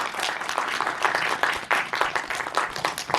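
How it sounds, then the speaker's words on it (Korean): An audience at a Korean film screening Q&A breaks into applause, a dense and steady wash of many hands clapping together that fills the room for a few seconds. "박수로 정리하도록 하겠습니다."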